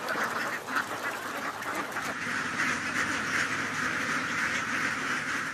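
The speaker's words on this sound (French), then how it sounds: "Ces armées de canards nettoyeurs sont devenues la norme dans les campagnes du royaume." A flock of ducks quacking together in a Thai rice paddy, a continuous chorus of overlapping calls at moderate distance with no voices.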